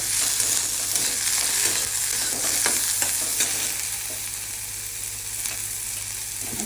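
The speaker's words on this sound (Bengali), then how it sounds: "পনিরটা ভেজে নিচ্ছি।" Paneer frying in a pan, a steady bright sizzle with occasional stirring scrapes, close and continuous without talk.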